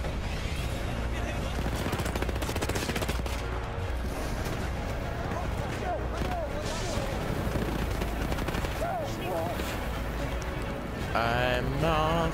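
Rapid gunfire and explosions from the World War I shooter game Battlefield 1, a dense continuous barrage of shots with bursts of automatic fire throughout.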